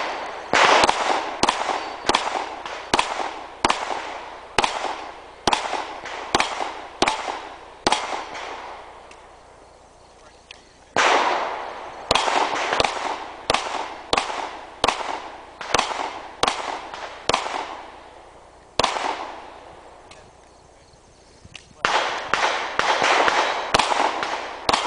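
Handgun shots at a steel shooting match, a string of loud sharp reports in quick bursts with short pauses between strings, each shot followed by a ringing echo, close by.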